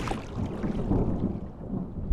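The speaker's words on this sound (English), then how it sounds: "Was that thunder? Still distant." Distant thunder rumbles low and steady across a stormy sea, heard from a small rowboat in the game Draugen, a continuous muffled roll with no sharp crack.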